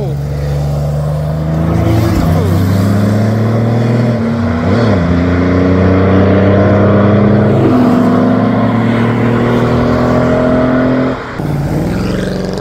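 A Ford Focus RS passing at a car meet, its engine droning loud and near with rising pitch as it drives by, other traffic and crowd noise mixed underneath.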